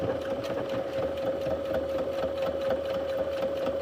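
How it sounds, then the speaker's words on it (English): A sewing machine runs a steady back stitch along a boxy bag, its motor whirring continuously at an even pitch with a fine rapid needle patter throughout, close and alone. "we're going to do that little bit of a back stitch"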